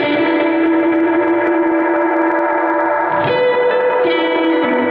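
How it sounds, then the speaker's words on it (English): A held reverb freeze on a Blackstar guitar amp sustains a dense, shimmering wash of chords, loud and continuous, with a brief pitch shift as new notes blend into the frozen tail. "we have a freeze function for the reverb. So you can press and hold and you get a real nice tail of reverb"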